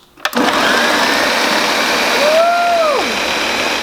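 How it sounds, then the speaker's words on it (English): A countertop blender runs loud and steady from start to finish, a constant whirring drone with a brief clunk as it starts and a faint whine rising and falling near the end. "let's take this over to the blender box"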